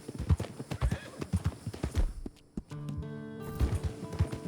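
A horse in Red Dead Redemption 2 clip-clops along at a steady walking rhythm, then gives a loud neigh partway through before its hooves resume, all close and clear.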